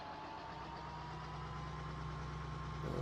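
A tractor engine idles steadily in Farming Simulator, a continuous low, even rumble with a faint rhythmic chug that stays constant and fairly quiet throughout.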